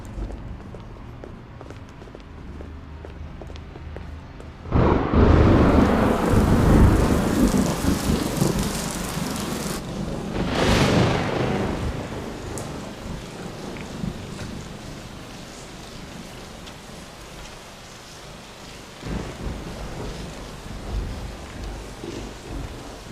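Steady heavy rain with a broad rumble of thunder that swells in and fades, outdoors as a storm arrives, loud and continuous with no speech.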